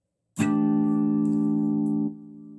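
A repaired First Act electric guitar rings out with a single strummed chord that sustains for nearly two seconds and then cuts off. It sounds close and fairly loud, with no one talking over it.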